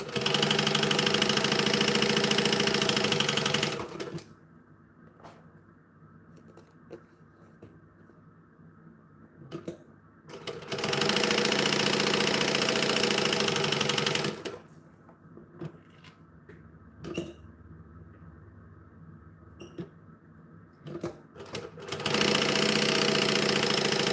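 Sewing machine top stitching fabric in two long bursts of steady mechanical whirring, close and fairly loud, separated by quiet handling noises, with a third run starting at the end.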